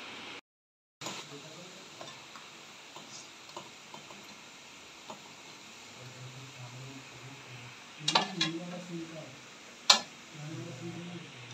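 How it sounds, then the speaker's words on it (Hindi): Two medium onions and two medium tomatoes stir and sizzle in a pan as a spoon scrapes and clinks a few times against the metal, close by, with light background noise and no talking. "इसी के साथ में हम लोग डाल देंगे इसमें हमारा जो मीडियम साइज़ का दो कांदा था वो, और इसी के साथ में दो मीडियम साइज़ के टमाटे।"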